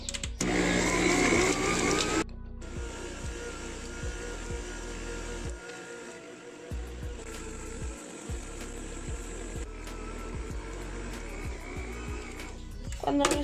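An electric mixer churns bolillo bread dough with a steady whirring drone and rhythmic thumping, with a brief louder burst at the start and end.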